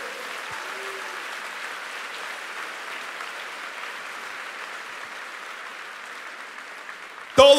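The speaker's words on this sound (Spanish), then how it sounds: "Denle un aplauso fuerte." A church congregation applauds steadily throughout, a dense, even wash of clapping from many hands in a large room, with a brief louder knock near the end.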